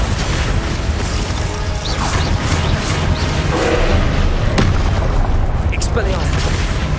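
A Glacius freezing spell is cast in Hogwarts Legacy amid a busy spell duel, with dense magical whooshes, crashes and mechanical clatter running loud and continuous.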